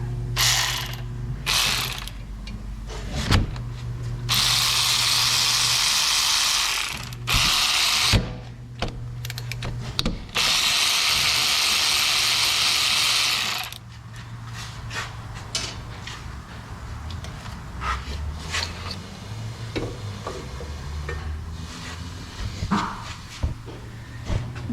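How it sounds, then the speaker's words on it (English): Ratchet wrench loosening 12mm brake caliper bolts on a Ford Fiesta, rapid clicking pawl in long bursts mixed with clanks and tool handling, close and loud. "We're going to go ahead and remove our caliper. It's these two 12mm bolts."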